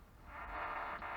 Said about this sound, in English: the static's blasting through one of the stalker speakers